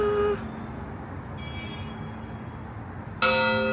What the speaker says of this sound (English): the church clock is chiming just for you